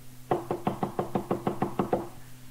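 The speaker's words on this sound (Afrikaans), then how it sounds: "klop iemand hard aan die deur" Loud, hurried knocking on a door in the morning, about nine or ten rapid even raps in a steady run, heard alone over a faint background hum.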